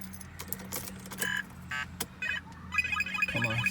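Metal car keys for a 2005 Infiniti G35 jingle and clink in short bursts, close by, with small rattles and clicks between them.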